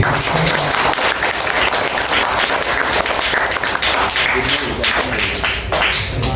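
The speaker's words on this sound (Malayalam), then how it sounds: "ഒരു കൈയടി." Audience applause at a family fellowship unit's annual gathering, dense steady clapping from many hands filling the room for several seconds, with a voice speaking faintly underneath.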